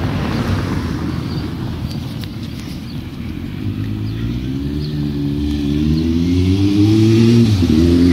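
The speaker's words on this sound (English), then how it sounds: "look at that motorbike." A motorbike engine rises in pitch as it approaches and passes close by, over steady wind noise, with no talking.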